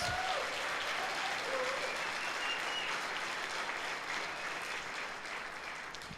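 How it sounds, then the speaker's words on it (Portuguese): A church congregation applauds during a Sunday service, a steady wash of clapping that holds at full strength for about six seconds with faint voices mixed into it. "Dá um aplauso a Jesus."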